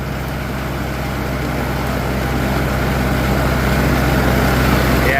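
Farmall Cub tractor engine working at about 80% throttle in first gear, mowing deep wet grass 8 to 10 inches tall; a steady, loud, droning motor with a belly-mower hum, constant throughout with no talk.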